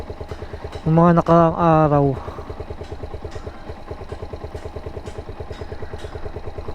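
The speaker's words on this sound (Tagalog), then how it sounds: "Normal na sa pandinig ko yung tunog ng makina." A Suzuki SZR 150 motorcycle engine idles after a timing chain repair, with an even, steady pulsing throb close by throughout; someone speaks briefly over the start.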